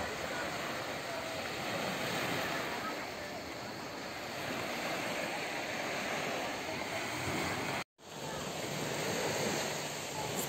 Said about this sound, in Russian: Спустилась сюда вниз к морю.